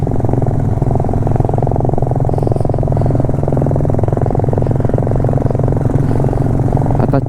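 Motorcycles, including Royal Enfield Bullets, ride a mountain road in Spiti Valley, their engines a steady close throbbing drone with wind rush and no pauses.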